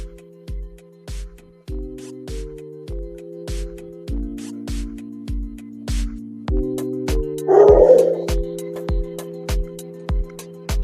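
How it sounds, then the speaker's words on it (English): A dog barks in a steady string of short, evenly spaced yips, fairly close, over a constant electronic tone, with one louder burst of noise partway through. "Pardon the dog."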